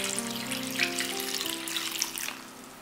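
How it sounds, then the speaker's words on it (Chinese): Water poured into a bowl of eggplant, a close, steady trickle and splash with soft ringing tones, running alone without voices for a few seconds. "加入水"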